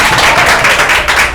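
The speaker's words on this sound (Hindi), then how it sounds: "ताली बजाओ यार" Loud, dense audience applause at a poetry open mic night, a steady burst of many hands clapping close up with no pause.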